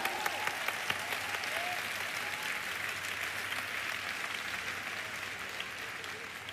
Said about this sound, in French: give yourself a big hand